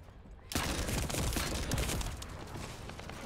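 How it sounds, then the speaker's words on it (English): Shotgun fire in the video game The First Descendant erupts suddenly after a quiet moment, a loud, dense barrage of blasts that continues steadily and eases slightly toward the end. "That's a shotgun."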